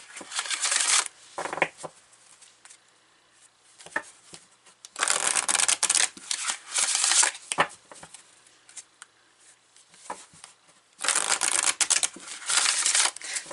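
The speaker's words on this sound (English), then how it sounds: "I'm going to take from, again, the chakra reading cards." Chakra reading cards are shuffled in several bursts of crisp riffling and flicking, close and clear, separated by quiet pauses.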